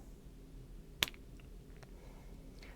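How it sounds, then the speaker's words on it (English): A single sharp finger snap rings out once, close and clean, over a faint steady room hum in a quiet lecture space. "So I'm going to snap my fingers"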